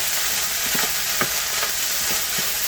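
A stir fry sizzles in a pan, a steady hiss broken by a few quick scraping and tossing clicks from stirring, close and moderately loud.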